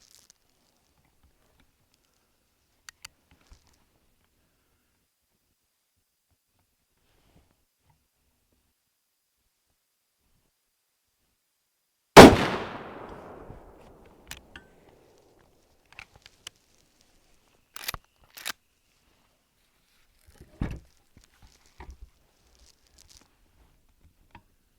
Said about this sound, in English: we'll take a few shots at this steel down here